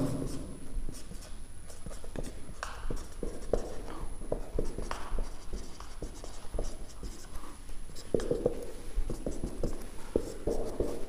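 Pen or marker scratching across paper or a board during a Hindi grammar lesson on nouns and numbers, with quick rhythmic strokes and taps close up, steady and fairly quiet, with no talking.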